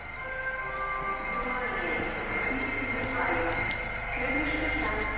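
A metro train in Sofia, Bulgaria, heard from on board or on the platform, gives a steady rumbling hum with whining tones throughout, while faint voices sit in the background.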